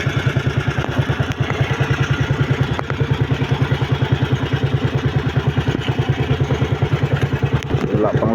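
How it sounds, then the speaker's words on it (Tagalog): An overheating engine running, a loud, steady rhythmic chugging pulse at idle with a clattery mechanical edge, heard close and continuous throughout. "Overheat po ating makina mga idol, oh."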